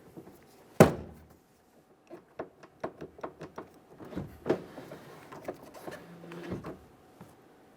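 A sharp thunk followed by a series of small, crisp clicks and snaps of a plastic trim clip pressed into a 1999-2006 Chevrolet Silverado 1500 door panel, close up, with some faint handling noise in between.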